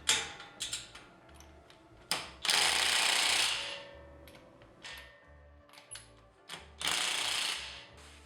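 Hand tools tightening the front shock and spring assembly nuts on a 2019 Toyota Tacoma, a series of close ratcheting clicks in bursts with several loud hissing blasts in between.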